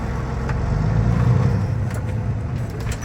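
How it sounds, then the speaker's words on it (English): A truck rolls slowly at about five miles an hour and comes to a full stop on its service brake, a low steady engine rumble close by that eases slightly toward the end. "I'm going to bring the truck to about 5 miles an hour and bring it to a complete stop"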